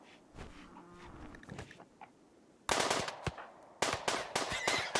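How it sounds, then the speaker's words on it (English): Rapid bursts of RimWorld gunfire, loud and dense, crackling in quick volleys after a quieter stretch of low rumbling game ambience. "All this gunfire. Very concerning."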